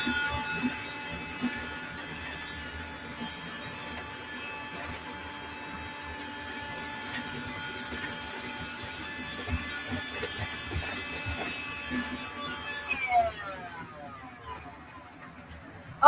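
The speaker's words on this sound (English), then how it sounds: "but first I need to do a bit of vacuuming" A vacuum cleaner runs with a steady whining motor hum while loose ballast is cleaned up on a model railway layout; the whine winds down in pitch near the end as the motor switches off.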